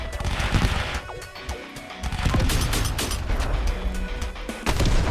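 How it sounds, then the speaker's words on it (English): A gauss rifle fires in the Mech Havoc combat game: loud, rapid blasts and crashes pile up over a dense, continuous din of battle, with little break between them. "Gauze rifle all the way."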